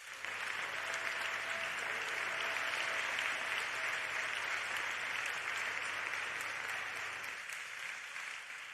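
Applause from the audience at an award gala for a literary narrative prize, a broad sustained patter of many hands, fairly distant and even, easing slightly toward the end.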